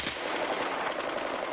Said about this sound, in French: Une première fusillade.